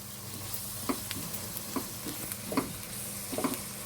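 Chicken filling sizzles in a pan with soy sauce and chili sauce while a spoon stirs it, soft frying hiss under four or five distinct scraping strokes at a steady, unhurried pace.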